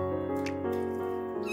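A kitten in its first bath meows steadily and plaintively, close up, with running water from a tap or sink faintly underneath.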